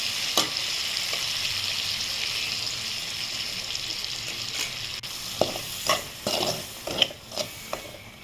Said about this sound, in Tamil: இந்த தாளிப்பில் கொஞ்சம் சாம்பாரை எடுத்து போட்டு நல்லா கிண்டி விட்டுட்டு